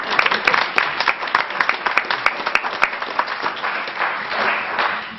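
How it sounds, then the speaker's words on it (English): Attendees at a tribal council meeting give a councilman a round of applause, a modest group clapping briskly in the chamber, with distinct claps early that blur into a softer wash as it tapers off. "we should probably give you a round of applause for even being here"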